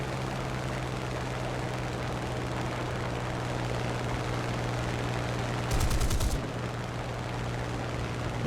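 Guns of a Typhoon Mk 1b fighter plane in War Thunder fire one short, loud burst over a constant droning engine roar heard from the cockpit, with no voices.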